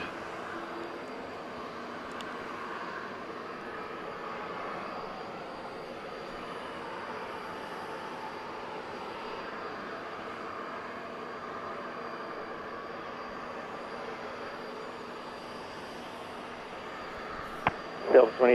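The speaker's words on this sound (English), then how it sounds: "this is the flight to Grand Rapids lining up now to take off on" A passenger jet sits on runway 8 right at Atlanta airport, its engines a faint, steady distant whine under low background hum, with a few sharp clicks and bumps right at the end.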